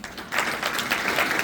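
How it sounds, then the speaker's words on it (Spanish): A church congregation gives a short burst of brisk, full applause for the Lord, steady and fairly close throughout. "Démosle un aplauso al Señor."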